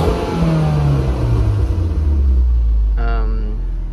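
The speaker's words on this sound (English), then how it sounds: "Rev it a couple times." Mitsubishi Evo X with an Invidia Q300 exhaust revs up, its engine note climbing and falling in a loud close sweep, then a second short blip near the end, with a voice briefly audible over it.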